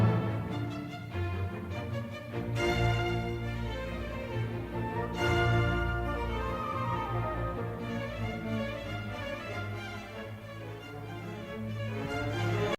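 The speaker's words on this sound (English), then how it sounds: "And then we have our B section," Orchestral performance of the B section of the scherzo from Beethoven's Symphony No. 2, with strings and winds playing continuously at steady, moderately loud level, with rhythmic accents throughout.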